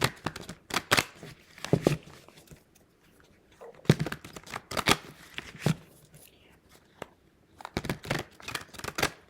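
Tarot cards from a Darkness of Light deck being shuffled, quiet riffling bursts in several separate runs with pauses between them, close and soft.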